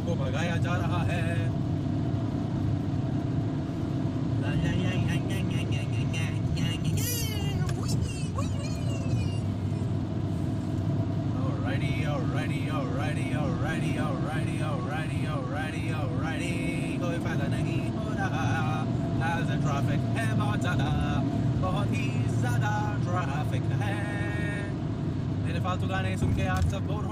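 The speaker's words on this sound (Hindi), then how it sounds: "फुल थ्रॉटल पे पुंटो को भगाया जा रहा है" A Fiat Grande Punto Multijet diesel at full throttle on an open road, heard from inside the cabin as a steady droning engine with rising pitch sweeps through the gears, while someone talks over it almost continuously.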